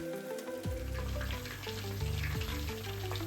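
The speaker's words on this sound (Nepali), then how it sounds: "मिडियम फ्लेममा भएकोले चिकन बिस्तारै फ्राई हुन्छ" Chicken pakora pieces frying slowly in oil over a medium flame, with a steady close sizzle, bubbling and occasional soft stirring clinks throughout.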